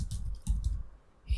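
Someone types on a computer keyboard, producing a few quick, close clusters of keystroke clicks separated by short pauses.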